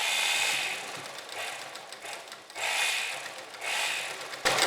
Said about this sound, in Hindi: आप सिलाई लगाते जाएँ और इन पिन्स को हटाते जाएँ।